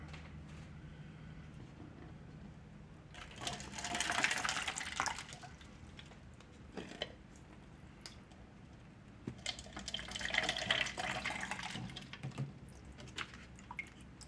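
Water poured from a container into a potted tomato plant, two soft splashing pours separated by a pause, heard faintly and close with no talking.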